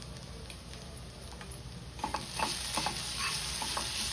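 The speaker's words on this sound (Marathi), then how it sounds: "छान अशी आळली आपली भाजी थोडा वेळ अजून तिला शिजायला देऊ आपण" A vegetable curry cooks in a pan with a steady low sizzle, with occasional stirring scrapes and taps that grow a little busier toward the end.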